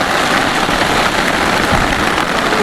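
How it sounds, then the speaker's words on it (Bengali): Heavy rain pours onto a rocking boat in the middle of a river during a windy storm, a dense, steady hiss that stays close and loud throughout with no pauses and no talking. "প্রচুর বৃষ্টি এসে গেছে আমরা ভিজেও যাচ্ছি"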